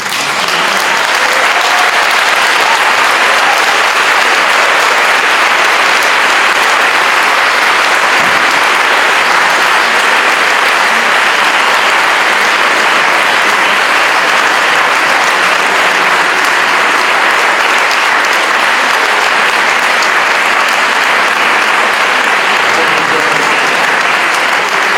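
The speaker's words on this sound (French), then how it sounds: "Les applaudissements sont à la hauteur de l'angoisse" Large audience at a citizens' assembly on mental health care applauding, a loud sustained roar of clapping held steady for the whole stretch with no letup.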